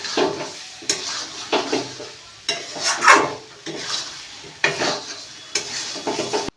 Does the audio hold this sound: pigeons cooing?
no